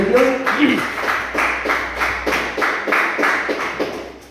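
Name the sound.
congregation clapping hands in church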